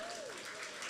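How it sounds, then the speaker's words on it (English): A church congregation at a live Zomi Christmas-season service claps briefly for a prize winner, a faint, soft wash of hands under a voice. "Let's give her a big clap."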